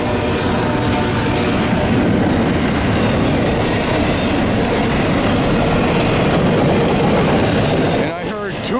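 CSX freight train I-044 rolls through downtown Plant City, a loud, continuous rumble of railcars with rhythmic wheel clatter close by, fading slightly at the end with a faint wheel squeal.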